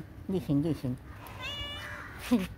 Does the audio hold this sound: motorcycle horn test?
no